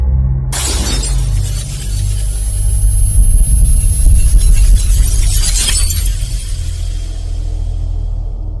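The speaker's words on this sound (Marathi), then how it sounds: "आरशाच्या काचा फुटल्याचा आवाज" Mirror glass bursts apart in a loud crash, a sharp shatter followed by a shower of falling shards over a low rumbling background, used as a horror story effect.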